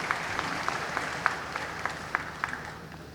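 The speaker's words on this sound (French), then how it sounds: "Mais je vous prie de le féliciter en l'acclamant très très fort" An audience applauds at a back-to-school meeting, with faint, scattered claps ringing in a large room at a steady, sparse rhythm.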